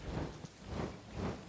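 Steady rain falls in the Stardew Valley farming game, a soft hissing patter that swells and fades gently. No other sounds are present.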